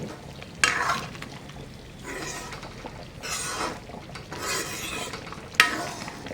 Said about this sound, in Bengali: আরও কিছুক্ষণ নাড়িয়ে দিতে হবে, না হলে ডালটা নিচে লেগে যেতে পারে